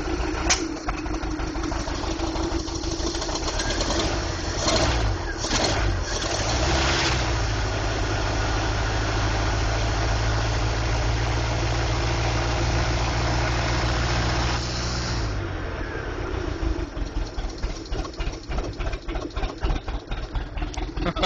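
A 1988 Sea Sprite boat engine idles after a cold start with an automatic choke, missing on one cylinder, giving a loud, steady, close rumble that shifts and settles partway through.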